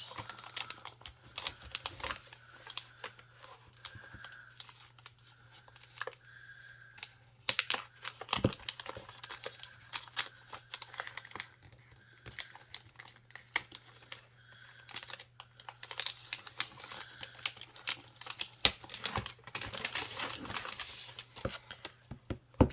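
Crinkly plastic and paper wrapping is peeled and torn off a sealed Fantome tarot deck, close up. The crackling and rustling comes in irregular bursts over a faint steady hum, with no talk.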